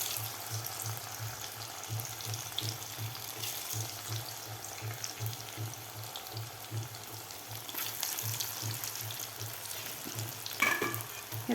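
Soya nugget and potato pakodas deep frying in hot oil give a steady, dense sizzle that runs unbroken from start to finish. A low, pulsing hum sits underneath, and no one speaks.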